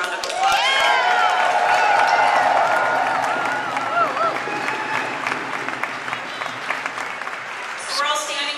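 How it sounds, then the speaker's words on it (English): A large outdoor solidarity rally crowd applauds and cheers loudly and steadily, with dense clapping, whoops and shouted voices sustained throughout before easing slightly near the end. "You guys need to give yourselves a round of applause."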